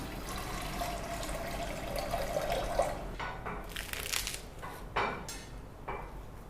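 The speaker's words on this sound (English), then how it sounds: "The water is boiling nicely." Water for blanching bok choy and kale bubbles and churns in a pot over a gas flame, a steady close liquid rush with a few sharper splashes and clatters.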